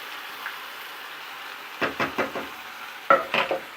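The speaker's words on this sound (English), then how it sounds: "Nice satisfying sound of frying beans." Tinned baked beans fry in a pan under a faint background sizzle, broken by a quick run of rhythmic scraping stirs and a second short burst near the end, nearby and moderately loud, no talking.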